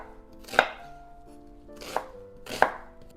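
A knife chops through a yellow onion on a cutting board, three distinct, sharp chops spaced about a second apart, close and clear with no talking.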